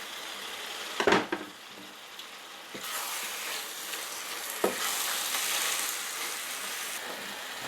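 Tomatoes go into a sizzling eggplant mixture for Indian-style eggplant caviar, a sharp clatter as they drop into the pan followed by a steady, loud frying hiss with occasional stirring scrapes.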